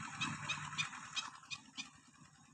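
A bird in the Rhade highlands of Vietnam calls in a series of short, harsh honking notes spaced about half a second apart, fairly near, with a low droning murmur of background noise underneath.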